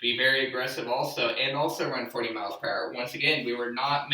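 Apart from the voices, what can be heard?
No everyday noises stand out.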